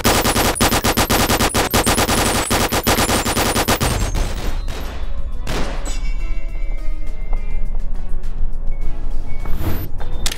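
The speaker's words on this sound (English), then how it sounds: "just straight up fire a submachine gun filled to the rim of the magazine." Rapid submachine gun fire in the Bonelab VR game, a dense, loud burst of shots for about four seconds, followed by scattered mechanical clatter and a few later shots.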